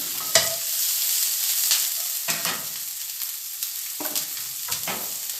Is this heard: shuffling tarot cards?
no